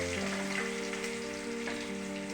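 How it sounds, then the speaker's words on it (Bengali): Potatoes frying in a pan beside fish-head curry makings, giving a steady, close sizzle throughout with a droning tone running underneath and no talk. "আলুটাকে একটু নাড়িয়ে এবার গাঠিটাকে দিয়ে দেবো।"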